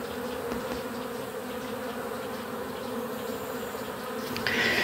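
Honey bees buzz in a dense, continuous drone at steady loudness, a swarm close by with no voices, swelling slightly louder at the very end.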